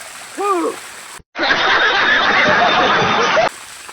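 Water gushes and splashes from a running pump motor outlet as someone bathes under it outdoors on a farm, a loud steady spray with brief vocal sounds just before and a short cut in the middle.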